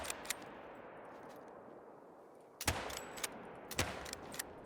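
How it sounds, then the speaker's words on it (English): Hunting rifle in the hunting game Call of the Wild fires two loud, sharp shots about a second apart, each with a short ringing tail, after a quiet stretch of faint ambient noise. "This is my go-to rifle, but let's just fire a couple rounds here."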